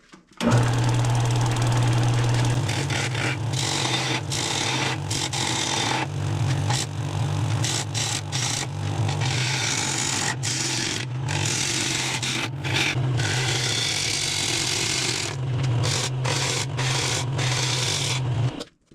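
A wood lathe turns a piece of firewood, with a continuous low motor hum under loud, gritty scraping and rasping as the tool cuts the spinning wood, nearby and steady with brief pauses.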